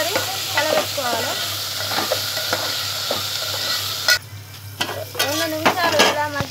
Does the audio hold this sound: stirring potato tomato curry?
yes